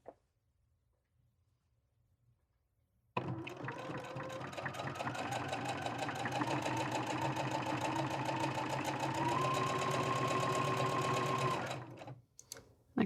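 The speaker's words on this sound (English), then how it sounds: "we're going to sew that seam all the way down" After a few seconds of near silence, a sewing machine starts and runs a long, steady seam on a drawstring bag, its fast, even mechanical whir close and continuous for about eight seconds before stopping.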